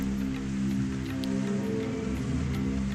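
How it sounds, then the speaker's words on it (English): Rain falls steadily in the video game Lamento -Beyond the Void-, a constant soft hiss of drops mixed with a low background hum, unchanging across the few seconds. "Only the sound of rain echoed in the darkness as he closed his eyes."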